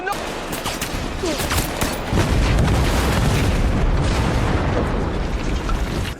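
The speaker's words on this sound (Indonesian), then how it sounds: "tim meledakkan gedung tersebut" A building blown up by a special forces team in an action film, a loud, continuous roar of blasts and crackling debris that swells heavier after a couple of seconds and stays dense throughout, with voices faintly underneath.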